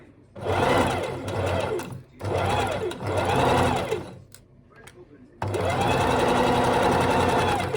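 Sewing machine stitching a toy's leg slowly and steadily, three loud whirring runs broken by short pauses, the last run longest, heard up close.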